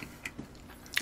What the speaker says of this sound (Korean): 요거를 손으로 찝어서 먹을게요